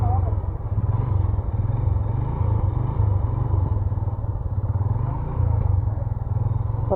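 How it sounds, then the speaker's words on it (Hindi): A motorcycle engine running at idle close by, a loud, steady low thumping pulse lasting throughout, with people talking faintly over it. "बंद नहीं करना आपने बाइक।"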